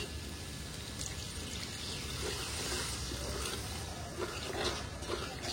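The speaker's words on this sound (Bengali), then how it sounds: "এখন আমি জল দিয়ে দেবো" Water poured into a pan of fried paneer masala for Bengali-style kadhai paneer, a steady rushing pour lasting several seconds with a soft splashing texture throughout.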